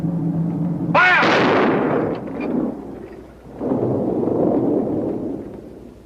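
A firing squad's rifle volley in a 1940 film cracks out as one loud, booming burst that rolls away, then a second rumbling swell follows, with no voices during the shots.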